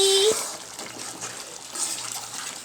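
Mushroom gravy bubbling and simmering in a pot, a steady wet, hissing boil that carries on throughout after a short tone at the start.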